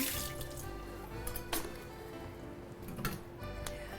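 Tap water runs over mushrooms being rinsed in a kitchen sink, a soft, faint splashing hiss with a few sharper drips and knocks scattered through it.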